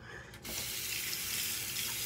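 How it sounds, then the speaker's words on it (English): A bathroom tap turns on and runs into a sink while the sink is filled for shaving, a loud, steady close rush of water after a brief quiet start. "I forgot to fill up my sink with water."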